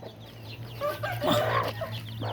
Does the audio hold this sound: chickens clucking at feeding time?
yes